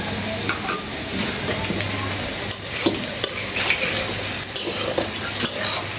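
A spoon stirs chicken curry in a pan over heat, making continuous scraping and clinking strokes above a steady sizzle, close and fairly loud.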